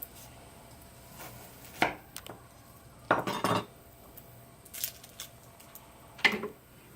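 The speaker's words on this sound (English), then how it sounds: "the next thing that we're going to do is just kind of chop an onion" An onion is chopped with a knife on a board in a kitchen, heard as a few sharp, isolated knocks spread out across a quiet room, including one quick cluster of several cuts in a row.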